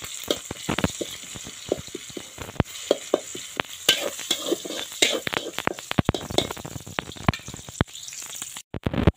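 Finely chopped garlic frying in hot oil with red and green chillies, a soft steady sizzle broken by frequent scraping clicks of a spoon stirring the pan, fairly quiet and close.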